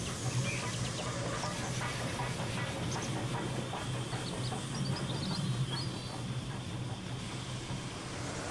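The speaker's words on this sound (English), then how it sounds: "While the shunting continues, diverted troop trains rush by." Model railway troop trains rush past in a steady, faint rumble and clatter of wheels on track, continuous throughout with no talking.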